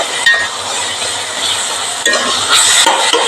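Tomatoes softened in a hot pan are mashed and stirred, giving a steady sizzle with scraping and a few light metallic clinks from the utensil, close and continuous with no talk.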